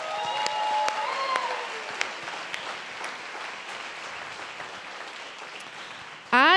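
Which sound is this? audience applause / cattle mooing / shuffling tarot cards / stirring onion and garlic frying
audience applause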